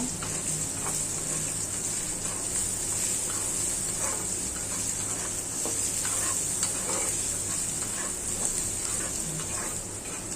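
Jackfruit seeds fry in hot oil in a pan where onions have already browned, giving a steady, close sizzling hiss that runs unbroken throughout, with faint scraping from stirring.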